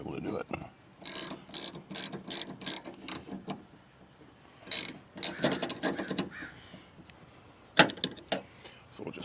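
Ratchet wrench tightening a 17 millimeter nut on an Auxbeam V-Ultra 5-inch LED light pod mounted on a Ford F250, with repeated close, sharp clicking bursts and short pauses between.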